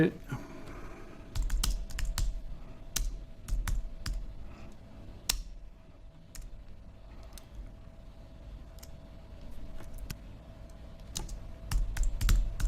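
Typing on a computer keyboard: bursts of quick, crisp key clicks near the microphone, separated by short pauses, against a quiet background hum.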